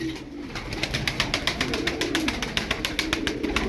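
Tumbler play pigeons coo steadily in a loft of twelve birds, a close, repeated rhythmic cooing with regular soft pulses throughout, no talking.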